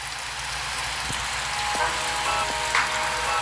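Dense, steady downpour of heavy rain in the video game Final Fantasy XIV, a constant hiss with scattered drips and splashes, no voices.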